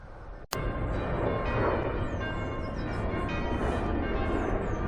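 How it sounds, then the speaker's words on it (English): Church tower bells are rung up at a village tower: a faint, distant ringing sits under steady, loud outdoor rumble, with a sharp click near the start and no voices. "I think you can probably hear in the background the bells are being rung up"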